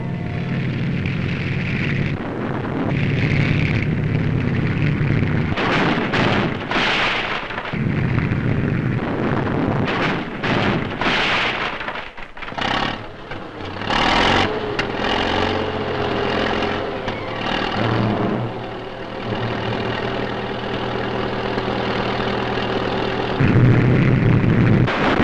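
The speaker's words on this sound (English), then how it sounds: "Now a tank driver pits the power of his vehicle against the efficiency of the engineers." A tank drives against a roadblock of heavy logs, with a loud, rough engine roar and grinding, punctuated by heavy crashes and bursts as it batters through, then a steady engine drone.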